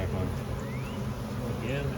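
A disturbed, opened honeybee hive gives off a steady dense buzz of many bees, with a few louder bees zipping past close by against a low outdoor rumble.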